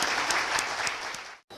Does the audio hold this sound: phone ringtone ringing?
no